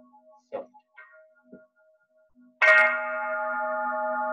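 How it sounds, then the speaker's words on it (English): In a Soto Zen hall, a large bell struck softly rings out with a sustained, resonant hum that fades slowly, preceded by a few faint taps and quiet ringing tones in an otherwise hushed room. "this soft and large bell indicates the assembly of the priests are together in the hall"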